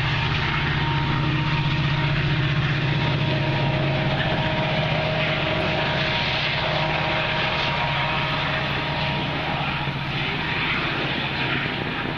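A METRA commuter train passes through Deerfield, producing a sustained broad roar with a low rumble and faint tonal hum that holds fairly steady throughout, heard from trackside with no voices.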